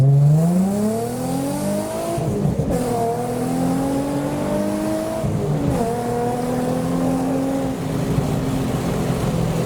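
A Lamborghini Aventador S drives past at a car show at Goodwood, its engine note rising and falling through gear changes as it goes by, with other car engines droning steadily throughout.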